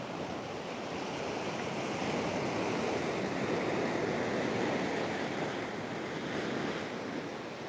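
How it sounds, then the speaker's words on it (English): Ocean waves roll in on the shore at La Caleta in a continuous broadband wash of surf that swells and holds steady, with some wind noise and no voices. "You got some nice waves coming in here."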